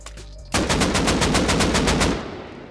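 Rapid automatic gunfire in the survival video game Rust, a loud, steady burst of about a dozen evenly spaced shots lasting around a second and a half, then fading out.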